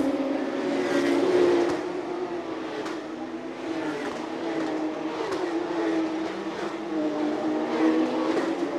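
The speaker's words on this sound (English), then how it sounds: "Car number 12 speeding through the starting grid again." A Porsche Carrera Cup race car roars past on a street circuit in Chonburi, its engine note swelling and fading, with more race engines droning behind it throughout.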